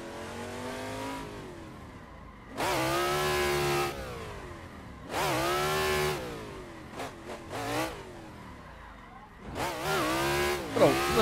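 A 1000 hp V8 pro drift car in a touge driving game on the Takigahara mountain course, with loud engine revs climbing in repeated bursts and tire squeal, separated by quieter lulls and quick blips.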